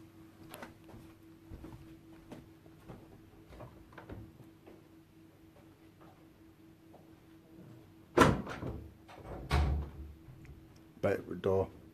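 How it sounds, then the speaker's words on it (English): An indoor pub door bangs shut several times in close succession near the end, sharp loud knocks that stand out against a murmur of room chatter and voices. "I notice door swings if you don't shut door properly"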